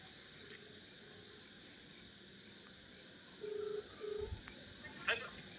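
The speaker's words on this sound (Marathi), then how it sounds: "तर आता आम्ही बड्डे बॉयला फोन लावलाय" A phone call rings out while a group heads to a village with a birthday cake. Faint background hiss is broken by two short, electronic ring tones, followed by a click.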